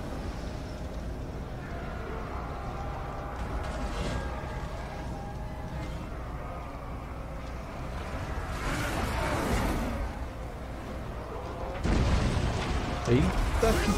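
Artillery fire on a Total War: Warhammer 2 battlefield, dull booms and rumbling impacts over constant battle noise, the heaviest blast landing near the end, with someone talking over the action throughout.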